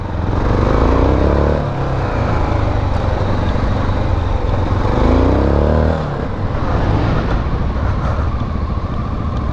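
A MASH X-Ride 650 single-cylinder motorcycle rides along a dirt trail near Lyon, its thumping engine rising and falling through two clear revving surges, loud and close.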